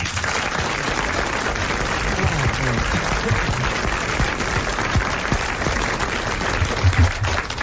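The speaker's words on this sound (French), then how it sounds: "Je trouve qu'il n'y a pas tout à fait assez de chaleur dans vos applaudissements, Monsieur Martin." Applause from a 1980 French TV studio audience, a dense, steady wash of many hands clapping at full level for the whole stretch, with no voices over it.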